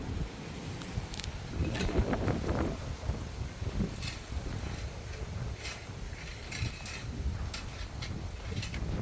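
Steady wind buffeting a microphone outdoors, a low continuous rumble with occasional rustling and faint clicks, no talking.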